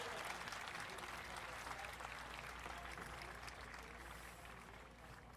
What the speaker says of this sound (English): How about a big Lourdes Eagle round of applause for our 2024 Eagle parents?